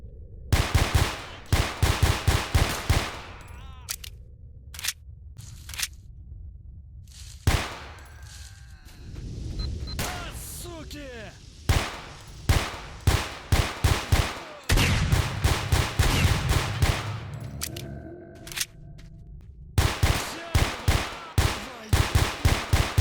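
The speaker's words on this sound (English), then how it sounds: "So, whipped out the pistol and went full Max Payne on them." Pistol gunfire from the S.T.A.L.K.E.R. Shadow of Chernobyl video game rings out in rapid clusters of loud, sharp shots, with brief lulls of ambient noise between bursts throughout.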